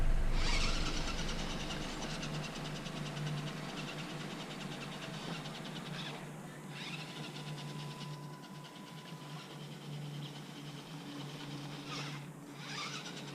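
Redcat Danchee Ridge Rock RC crawler driving in four-wheel crab steering mode, a steady electric motor whine with gear hum and brief servo chirps, close and continuous.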